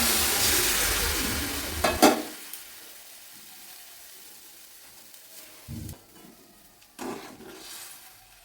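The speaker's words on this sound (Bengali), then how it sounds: "কষে নেওয়া হয়ে গেছে, এবারে একটু জল দিয়ে দেবো।" Sizzling of fish and tomato masala in a pan swells briefly as water is added, then settles into quieter simmering with a few short splashy bursts later; no talking.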